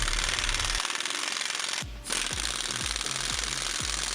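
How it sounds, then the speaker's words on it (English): Impact wrench driving out the six T55 bolts on a Jeep TJ front bumper, a loud continuous rattling hammer that stops briefly, then resumes in a run of short repeated bursts, with no voices. "Remove the 6 T55 bolts holding the bumper on."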